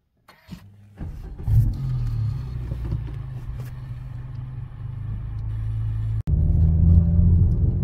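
A Suzuki Swift Sport fitted with an exposed K&N air filter pulls away and drives, its engine rising into a steady, close, droning hum that gets louder and fuller after a short break.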